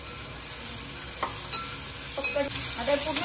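Onion and green chili fry in a pan with ginger-garlic paste, giving a steady broadband sizzle with occasional louder scrapes and clinks of a stirring spoon, close and without talk.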